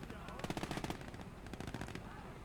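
Rapid bursts of PPSh submachine gun fire rattle through a Gates of Hell: Ostfront battle on the Russian front, dense overlapping volleys with sharp repeated cracks, strongest early and again midway, loud and close.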